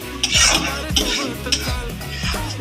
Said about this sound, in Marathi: 2 सेकंड फक्त याला परतायचंय